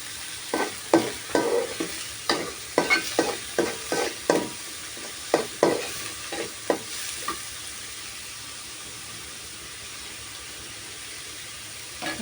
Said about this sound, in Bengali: কুচি, কাঁচামরিচ এগুলো দিয়ে একটু নেড়ে চেড়ে নেব